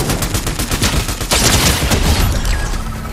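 Gunfire in Fortnite rings out as a rapid, close string of sharp shots, followed by a louder burst and a fading ring, with no talk.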